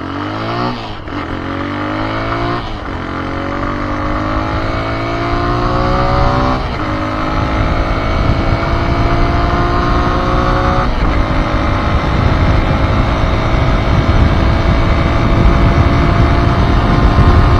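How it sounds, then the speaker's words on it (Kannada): A TVS Raider 125 motorcycle engine roars loud and close on an open road during a top-speed run, its pitch climbing repeatedly as it pulls through several gear changes before settling into a steady high-rev drone. "ಈಗ ಟಾಪ್ ಸ್ಪೀಡ್ ರನ್ ಮಾಡೋಣ"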